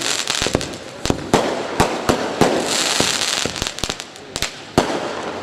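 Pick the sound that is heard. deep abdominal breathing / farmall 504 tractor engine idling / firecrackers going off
firecrackers going off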